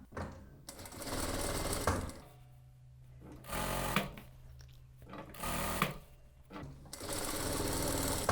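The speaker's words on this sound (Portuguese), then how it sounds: "Encaixo aqui os dentes do zíper dentro do buraquinho do meu calcador e vou costurar." Domestic sewing machine stitching down one side of a zipper, its teeth fed through the presser foot, running in several steady bursts of rapid mechanical whirring with brief quiet pauses between runs.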